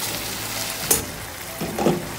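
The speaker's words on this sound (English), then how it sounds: "I let this simmer for about 30 seconds and my food will be ready for serving." Wet mbuzi fry with coriander simmers in a pan, a steady bubbling sizzle broken by a sharp spatter and a couple of brief stirring scrapes toward the end.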